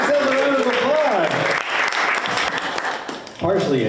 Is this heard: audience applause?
yes